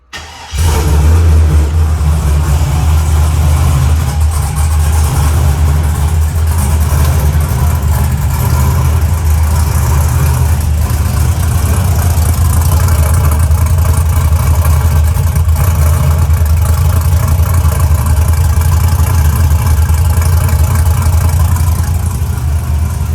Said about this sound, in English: I'm gonna go ahead and give y'all a cold start and let y'all hear how she sound